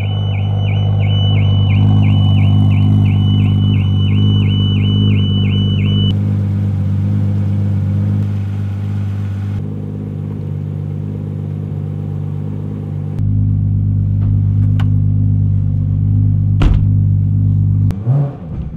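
A Toyota Supra engine idles with a steady, deep, droning rumble that runs close and loud for almost nineteen seconds, its tone shifting a few times, with a couple of brief clicks near the end.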